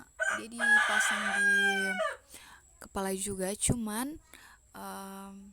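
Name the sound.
rooster crowing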